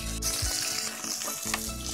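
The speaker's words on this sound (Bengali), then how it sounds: "এখন আলু ভাজা হচ্ছে" Potatoes fry in a pan with a loud, steady sizzle that continues throughout, with no talking.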